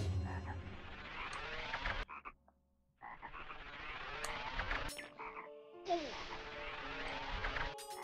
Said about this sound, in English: These frogs, though, man, they can take a hike.